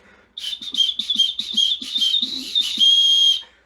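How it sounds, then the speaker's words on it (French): A shrill safety whistle blown close up in a series of short rapid trills, ending in one long sustained blast. "le sifflet, magnifique sifflet"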